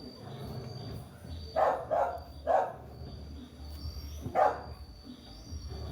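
A dog barks several times in short bursts, a quick pair then another, then a single bark after a pause, over a low background hum.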